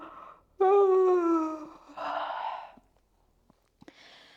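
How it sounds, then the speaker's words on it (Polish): During a back and spine stretching exercise, a person gives one loud, open-mouthed yawn, a long voiced groan that tails into a breathy exhale, followed by a few quiet clicks and rustles up close. "ziewnij sobie porządnie, ale tak głośno z otwartą paszczą"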